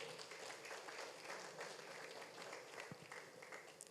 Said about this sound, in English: Please, can we give him once again a round of applause?